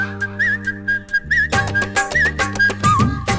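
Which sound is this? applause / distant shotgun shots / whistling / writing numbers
whistling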